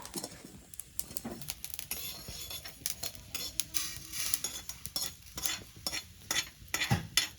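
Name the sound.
local chicken meat frying in a pan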